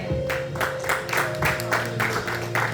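A church congregation claps along in a steady rhythm, a regular series of loud handclap bursts roughly three per second over sustained musical tones.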